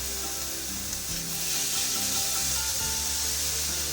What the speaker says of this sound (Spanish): Y ahora voy a remover muy bien.